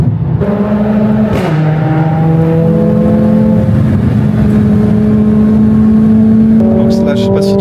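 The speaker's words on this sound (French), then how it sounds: "il y a plusieurs voitures. Il y en a peut-être 5 ou 6 ou 7 ou 8. Et ils bombardent sur la même artère." Several cars speed along the same street in Colombia, with loud engines revving and holding steady tones close by as they race, and a voice talking over them.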